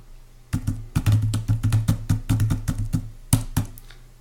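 Computer keyboard keys tapped in quick, uneven bursts while code for a Dolphin Smalltalk application is written, close and clear with no talking.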